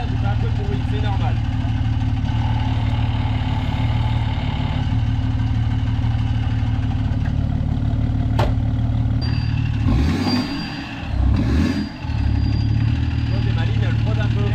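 A motorcycle engine runs steadily at idle with a noisy, clattering clutch, close and loud throughout, with a brief dip and a revving swell near the end while people talk over it.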